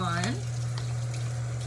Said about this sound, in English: I'm gonna turn on my warm water